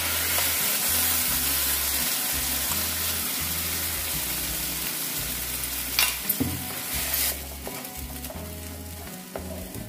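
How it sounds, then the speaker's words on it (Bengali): A few pieces of cinnamon and a dried chilli sizzle steadily with fried spices in a pan as they are stirred, a close, continuous hiss with a low rhythmic hum underneath that eases near the end. "এখানে দিয়ে দিচ্ছি আমি কয়েক টুকরো দারচিনি, একটা শুকনো লঙ্কা, একটু নেড়ে দিচ্ছি।"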